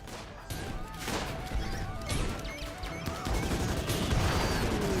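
Gunfire in the colony-building game RimWorld: a dense run of overlapping shots and impact crashes, fairly loud and continuous, with a voice speaking over part of it.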